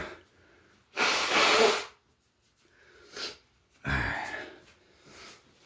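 Loud, breathy nose-blowing bursts, one long honk followed by shorter snorts and puffs, close by with quiet gaps between.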